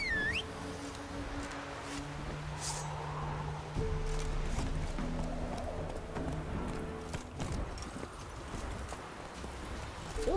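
Steady hoof clip-clop from a horse in The Witcher 3 plays under continuous game background sound and music, moderately close and fairly quiet, with a few sharper knocks.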